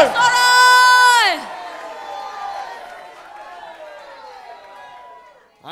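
A church congregation shouts for joy in a loud burst of high, bright voices that fades into a lower, lingering crowd murmur, then swells briefly again at the end.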